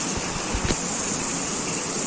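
Heavy downpour water gushes over an old overflowing gutter during a violent storm, a loud, continuous broadband rush with a few low thuds, no voices.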